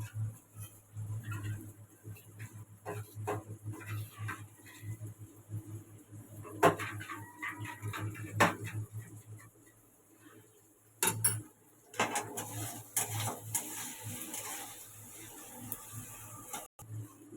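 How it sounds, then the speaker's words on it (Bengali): A spoon stirs Kargil fish curry spice paste in a metal pan, making quiet, irregular scraping and clinking against the metal, with a few sharper knocks and a low background hum. "এবার মশলাটাকে একটু নেড়ে নেবো।"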